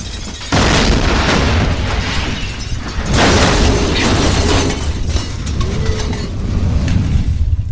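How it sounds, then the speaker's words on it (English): A production-rigged car bomb in a survival deathmatch game goes off with loud, deep booms, a second blast following the first, then a long rumbling tail of debris and mechanical clatter. "a production-rigged car bomb specifically designed to get that explosion money shot"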